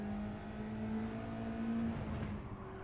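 Race car engine in the Mazda Cup racing video game, droning steadily at high revs as the back end slides in oversteer, with a sustained tonal whine and slight pitch wavering, loud and continuous without talk.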